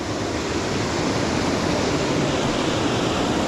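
Hareshaw Linn waterfall roars as a steady, dense rush of falling water, loud and close, with no break or change across the whole stretch.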